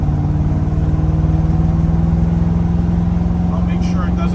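A 1964 Corvette Stingray with the 327/300 V8, in need of a tune-up, runs steadily with a loud, even engine drone and rhythmic pulsing throughout, as if idling or cruising up close.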